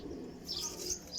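Teddy pigeons coo softly in a brief, faint burst, with a few light chirpy calls over low background noise.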